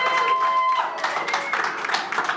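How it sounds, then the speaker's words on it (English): Brief applause and clapping at a racecourse after the racehorse My Best Shot wins. A steady, moderately loud patter mixes with a tonal line near the start and carries faint talk over it. "round of applause belongs to My Best Shots"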